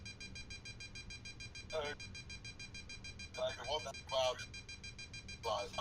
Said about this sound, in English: When I hear the beeps, I know I'm climbing.